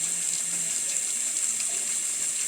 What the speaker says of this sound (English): just going to get my hands rinsed off real good. I will rinse first in hot.